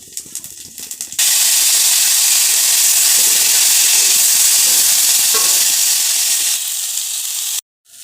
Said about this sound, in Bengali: এতে আমি জিরা সম্বর দেব